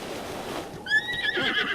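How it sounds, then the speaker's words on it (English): A horse in The Legend of Zelda: Breath of the Wild gives a short, shrill whinny that rises and wavers over a soft background, with faint hoof clops, close and clear. "When the horse neighs like that, soothe him."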